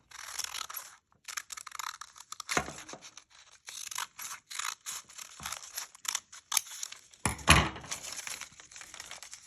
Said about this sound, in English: Fold over, crease, cut, make sure you stop.